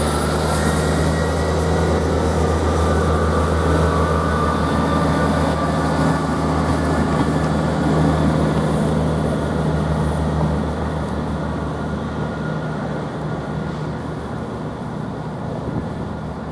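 An East Midlands Railway diesel service from Norwich to Liverpool Lime Street pulls out of Ely station, a loud, steady engine drone and rumble with a high whine, slowly easing as it moves off.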